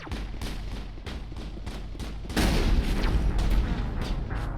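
Gunfire sounds from a sniper firefight in the video game Mass Effect, a run of sharp cracks and booms that grows louder and denser halfway through, with no one talking.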